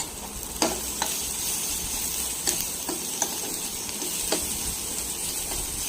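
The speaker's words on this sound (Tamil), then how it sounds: "மஞ்சள் தூள் பச்சை வாடை போகிற வரைக்கும் வதக்கிக்கலாம்." Turmeric powder sautés in a pan of spicy chicken gravy with a continuous close sizzle, while a spoon scrapes and taps the pan every second or so.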